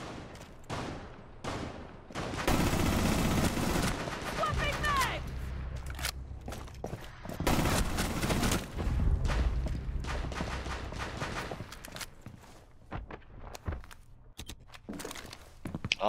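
Rainbow Six Siege gunfire on PS4, heavy bursts of automatic shots and loud impacts coming in several volleys, with footsteps and players talking over the game sounds.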